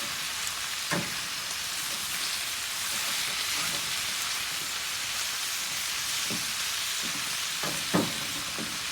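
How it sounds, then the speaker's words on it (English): Cheesesteak meat sears on a grill with a loud, continuous hiss like rain. Occasional spatula scrapes and taps come through as the meat is mixed, and no one speaks. "All back in the pot. Get it all mixed up. Seared cheesesteak, folks."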